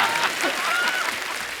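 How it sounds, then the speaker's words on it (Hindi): A short burst of enthusiastic applause from an audience, loud and dense, clapping steadily throughout. "जोरदार तालियां हमारे गेस्ट के लिए"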